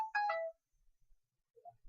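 A phone ringtone sounds during a Skype call as a brief, bright melodic burst of a few quick notes at the start, followed by near silence with faint, scattered rustles.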